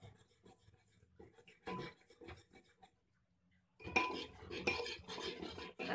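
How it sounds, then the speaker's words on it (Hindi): Gram flour (besan) being roasted in a pan for masala khichdi, with scraping and stirring clatter of a spoon against metal in bursts, a quiet pause, then louder continuous scraping near the end. "ये देखिए मैं इस हल्का हल्का सा बेसन को भूनूंगी"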